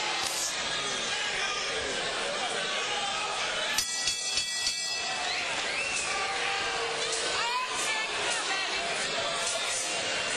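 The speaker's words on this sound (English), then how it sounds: "Crowd getting a little restless" Restless boxing crowd murmuring and chattering in a steady broadband hum throughout, with a brief burst of clattering noise partway through, no voice standing out.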